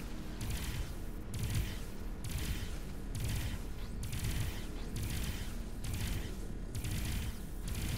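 Spaceship cannon turrets fire in the space game Avorion, a dense, steady barrage of rapid booming shots that repeats in pulsing bursts, loud and continuous throughout.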